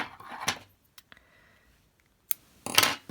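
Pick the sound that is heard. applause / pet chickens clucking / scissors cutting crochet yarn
scissors cutting crochet yarn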